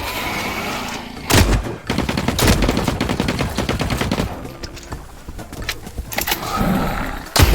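Rapid gunfire in the video game The Cycle Frontier: loud bursts of automatic shots and a few sharp single cracks, crackling close up over several seconds with brief pauses between volleys.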